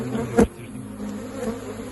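Honeybees buzz steadily close by around a crowded hive in a dense droning hum, with one louder burst as a bee passes near.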